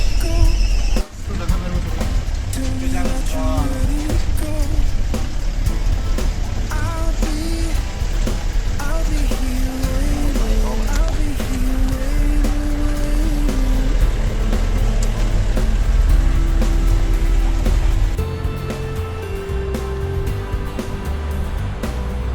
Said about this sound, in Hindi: ये जो है अभी 4x4 का गियर ऑन है तो वही चल रहा है अभी